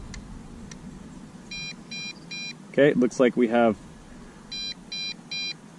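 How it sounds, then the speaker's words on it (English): Low battery alarm on an MJX Bugs 5W GPS FPV brushless drone: two sets of three quick, even electronic beeps, with someone talking briefly between them over faint background noise. "a low battery alarm."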